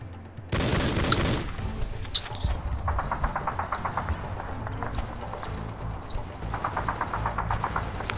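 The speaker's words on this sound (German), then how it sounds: "Dann baller ich hier einfach mal die letzte Munition noch raus" Rapid bursts of automatic gunfire in the shooter video game Soldier of Fortune: Payback, loud and repeated in close succession as the last rounds are emptied, with game ambience between volleys.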